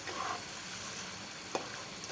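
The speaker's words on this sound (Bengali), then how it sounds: "ঢাকনা খুলে মশলাটাকে আবার একটু নাড়াচাড়া করব" Masala fries in a pan with a steady, faint hiss while it is stirred, with one brief scrape of a spoon, close and quiet.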